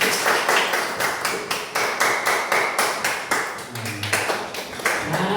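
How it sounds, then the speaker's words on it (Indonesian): Students in a classroom clap for themselves after a coding and artificial intelligence lesson: a steady run of sharp, fairly close claps fills the room, with a brief low murmur partway through. "tepuk tangan dulu untuk diri sendiri"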